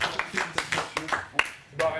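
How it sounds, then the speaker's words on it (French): A group claps together after a workout session, several short bursts of applause mixed with voices talking over them nearby. "Allez les gars, on peut s'applaudir."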